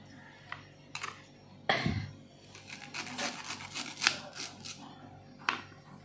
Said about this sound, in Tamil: அப்படி கையில் தடவினோம்னா நார் வந்துடும்